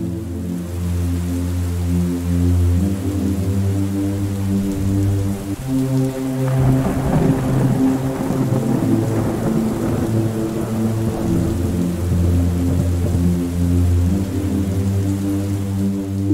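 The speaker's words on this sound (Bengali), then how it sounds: "দেখলে প্রচুর বৃষ্টি আর বজ্রপাত হচ্ছে" Heavy rain and thunder in a village storm, a steady loud downpour with deep rolling rumbles swelling through the middle, heard alone over a low continuous tonal bed.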